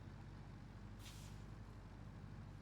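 An air brake hisses once from a dump truck in the Roadcraft video game, a short bright burst over a steady low engine rumble, with no talking.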